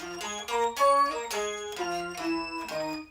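A bell patch on a Boss SY200 guitar synthesizer rings out a sequence of struck, sustaining tones, about six in three seconds, each with bright shimmering overtones and overlapping decays, moderately loud and alone.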